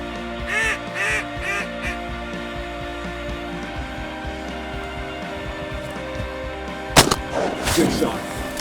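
A shotgun fires once during a bluebill duck hunt, one sharp loud blast with echo that follows a stretch of duck quacking and a drone of wind and water, with hunters talking around it.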